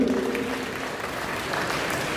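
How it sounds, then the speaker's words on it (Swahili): An audience at a wedding celebration bursts into applause, a dense wash of clapping that stays steady throughout, with a faint voice underneath at the start. "tuwapigie makofi mazuri"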